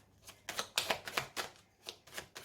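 A deck of tarot cards is cut and handled, giving a quick run of soft papery slaps and riffles in an uneven rhythm, close and fairly quiet, without talk.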